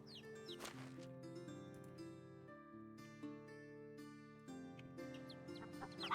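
Hens for sale in the medieval farming game Medieval Dynasty cluck softly over a quiet, steady background of tones, a faint scatter of short clucks with no talking.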